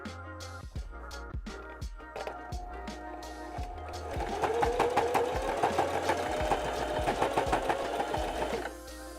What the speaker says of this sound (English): just run your sewing machine down that line